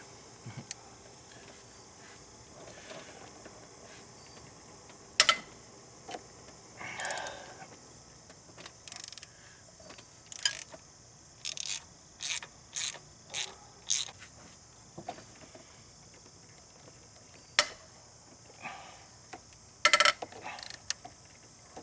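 Ratchet and breaker pipe working loose the engine bolts on a Grand Am during an engine teardown, heard as scattered sharp metallic clicks and cracks in bursts, close by, with a steady hiss underneath.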